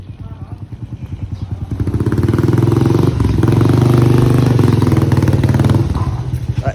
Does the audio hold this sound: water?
no